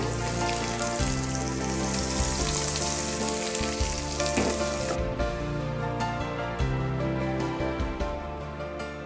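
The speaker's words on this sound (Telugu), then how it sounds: "పోపు అయిపోయింది" Tempering of spices sizzles hard in a pan for capsicum chutney, a loud, dense, continuous crackle that eases slightly partway through, heard up close with no talking.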